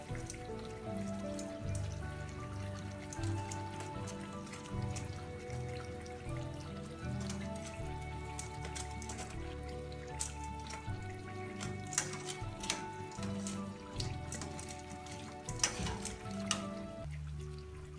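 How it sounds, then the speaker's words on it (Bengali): Jalebi fry in hot oil, a fine crackling sizzle like light rain running steadily under louder background music for the whole stretch. "আমাদের জিলাপি প্রায় ভাজা হয়ে গিয়েছে"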